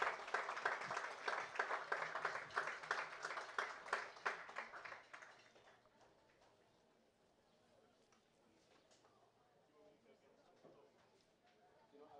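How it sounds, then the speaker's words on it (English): A crowd at a soccer match claps for youth soccer teams, with distinct, rhythmic claps for about five seconds before fading to scattered claps and quiet ambience with faint voices. "Give them a big round of applause."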